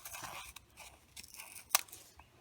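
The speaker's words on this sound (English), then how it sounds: "Then you're going to cut the snowman out." Scissors snipping through paper to cut out a snowman shape, a close, quiet run of short crisp cuts and rustles with one sharper snip near the end.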